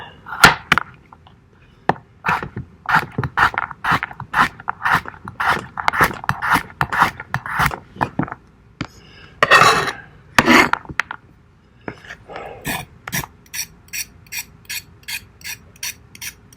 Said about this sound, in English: Doesn't do too bad a job of rough peeling or grating.